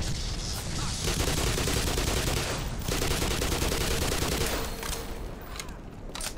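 Dense, continuous gunfire in the video game Black Mesa, rapid automatic bursts blending into a loud, unbroken barrage that eases slightly toward the end.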